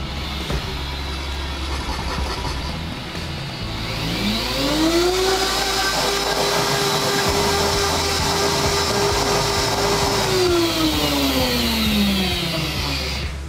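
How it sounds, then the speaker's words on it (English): A very powerful blender purees spinach and water into a green paste, its motor whining up to a loud, steady high-speed roar before winding back down, close and dominant. "My blender is psychotically powerful"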